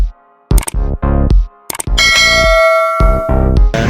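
A loud, close notification bell sound effect rings out: a few sharp metallic dings, then a sustained ringing chime that lingers while more quick strikes follow.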